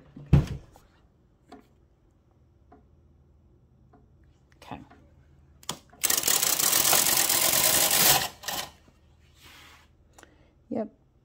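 Electronic knitting machine working a tuck stitch pattern: a few sparse clicks and knocks, then a loud two-second rasping slide of the carriage across the needle bed, followed by scattered soft clacks.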